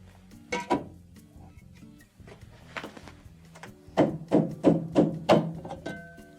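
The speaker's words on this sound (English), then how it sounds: "with a rubber mallet, tap from the bottom, and they will disengage from the door" A rubber mallet taps upward on a GE refrigerator door handle to knock it loose, giving a cluster of dull, close knocks, sparse at first and then several firm strikes in quick succession.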